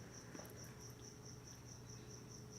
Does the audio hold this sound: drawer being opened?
no